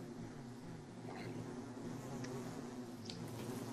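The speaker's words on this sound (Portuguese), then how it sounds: "tem um mosquito chato aqui em cima de mim" Mosquito buzzing in the game Don't Starve, a steady close insect whine droning continuously without pause, alone with no talk.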